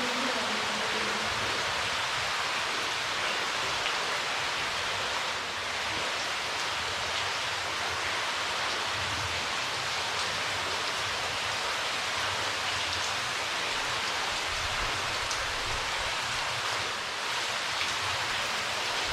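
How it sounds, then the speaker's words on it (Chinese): Steady, dense patter of water dripping and falling inside a limestone cave near New Melones Lake, California, a continuous rain-like wash filling the space without speech. "仿佛让我感觉到好像在地壳的里面经历着下雨的感觉"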